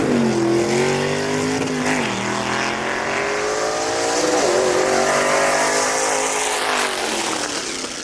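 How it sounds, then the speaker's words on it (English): A 1957 Ford Super Stock drag race car roars down the strip at full throttle, its loud engine note climbing through the gears with brief dips at each shift, sustained over several seconds. "Good chance for you to hear that music at full song right there coming out of that motor."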